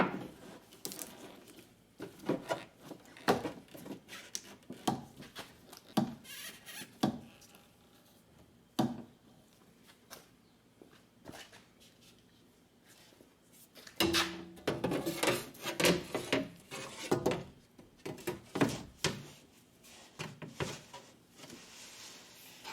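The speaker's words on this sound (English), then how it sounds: "So right now we should be able to slide the glass inside the door." The rear door window glass of a VW Jetta, with its regulator removed, slides down inside the door. It gives scraping and rubbing sounds in irregular bursts, with knocks and rattles of glass against the door's inner panel, close up and with no speech.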